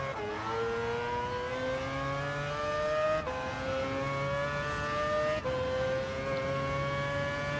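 A Gr.3 race car engine in a racing video game screams at high revs, its pitch climbing steadily through each gear before dropping sharply at two quick upshifts, loud and continuous with no talk.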